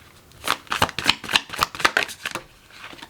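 Tarot cards are shuffled in a quick run of crisp riffling bursts, close and fairly loud, that settles into a few softer flicks at the end. No one speaks.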